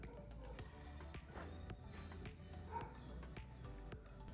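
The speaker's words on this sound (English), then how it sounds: "My dog is barking." Dog barking indoors in the background, a series of faint, scattered barks and yips under a low steady room tone.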